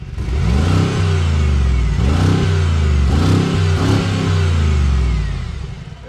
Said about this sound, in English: That is a deep and guttural V8 sound